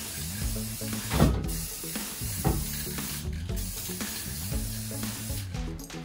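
Spray paint hissing from an aerosol can indoors in a bedroom, a steady broadband spray that runs almost continuously for six seconds with short swelling bursts, close and fairly loud over low background hum.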